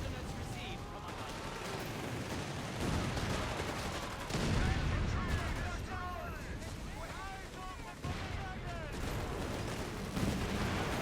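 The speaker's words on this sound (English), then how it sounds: "That's infantry fire!" Infantry gunfire crackles in the World War II strategy game Company of Heroes 3, a North African campaign setting, as dense continuous rattling volleys and bursts under game music and voices.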